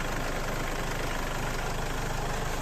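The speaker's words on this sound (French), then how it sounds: "on démarre le véhicule" A 2016 Mercedes Vito van engine idles steadily just after starting, a close, even low rumble with no voices.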